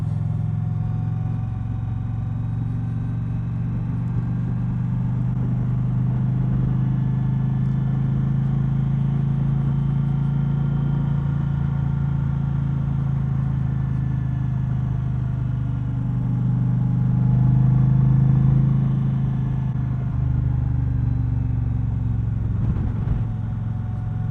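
An Indian Challenger motorcycle riding out near Lake Anna, with a steady low engine drone and rumble heard from the rider's position that swells slightly midway, mixed with some wind noise.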